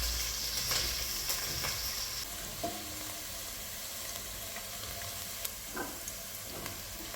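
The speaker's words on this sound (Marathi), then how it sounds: "आपला आता कांदा परतून झालेला आहे." Onion sautéing in a pan for veg dalcha rice, cooked with cinnamon and cloves, gives a steady close sizzle and hiss, with occasional scrapes and clinks as it is stirred.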